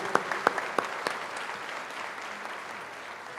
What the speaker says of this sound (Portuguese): Vamos aplaudir a poderosa palavra de Deus